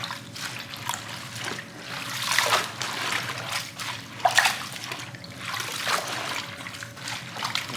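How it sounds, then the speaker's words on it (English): Turnip greens being rinsed by hand in a basin of water, with recurring trickles and soft splashes every second or two, close up and moderately loud, over faint background sound. "So I just clean them in water."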